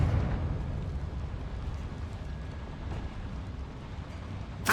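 A Confringo fire spell in the Hogwarts Legacy video game, a rumbling explosion with a dense, crackling roar that decays slowly, followed by a sharp burst at the very end.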